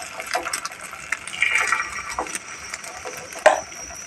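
Tamarind water poured into a pan of egg gravy, a soft trickling and gushing liquid sound with a few small splashes, close and moderately quiet, with no talking.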